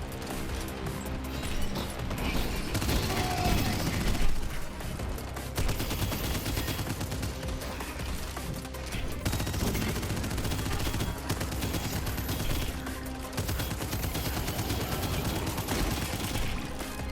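Dense, continuous gunfire rattles away while shooting enemies in the video game Abyssus, rapid bursts layered over game effects, loud and sustained for the whole stretch.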